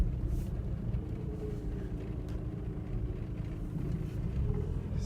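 Nissan Pulsar NX driving over a bumpy road, heard as a low, steady engine and road rumble from inside the car, continuous and moderately quiet with faint knocks.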